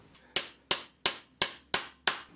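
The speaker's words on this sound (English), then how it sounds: "I'm gonna have to get a bigger hammer." Six sharp, evenly spaced metal-on-metal hammer blows ring out as a part is driven into a gravel bike suspension fork, each strike loud and close with a short ringing decay.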